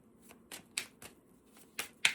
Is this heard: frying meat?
no